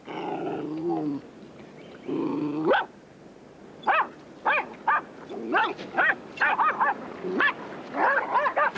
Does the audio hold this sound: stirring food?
no